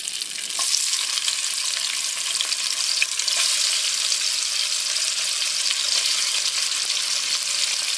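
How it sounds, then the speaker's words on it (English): Hot dogs with red bell pepper, tomatoes and onions fry in a pan, giving a steady, loud, close sizzle that continues without pause. "So now I'm gonna fry those."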